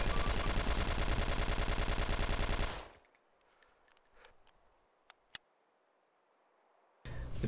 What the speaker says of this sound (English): Now, I'm going to switch full,